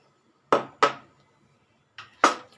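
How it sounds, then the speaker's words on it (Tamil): Fennel seeds are pounded in a stone mortar: four sharp, ringing thuds, two close together, then a pause, then two more, each hard strike fading quickly in a quiet room. "சோம்புலாம் ரொம்ப குயிக்காக க்ரஷ் ஆகிடும் பாருங்கள்"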